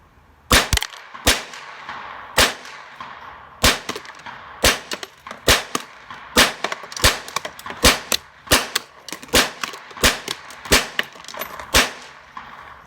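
A stainless Marlin 60 rifle shoots through a whole magazine of lead round-nose rounds, firing about twenty sharp, fairly close cracks at an irregular but steady pace over several seconds, with no talking.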